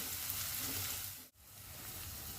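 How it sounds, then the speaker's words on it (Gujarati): Chopped small-to-medium onion sizzles steadily as it fries in a hot pan for veg fried rice, a dense, even crackle that drops out briefly midway before resuming at the same level. "હવે આપણે એની અંદર આ ચોપ કરેલો કાંદો નાખી દઈશું."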